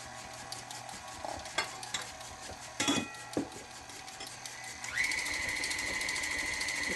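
Cake batter with eggs being stirred by hand in a bowl, giving scattered soft scraping strokes and a few louder knocks against the bowl, then a steady whirring mixer-like hum for the last two seconds.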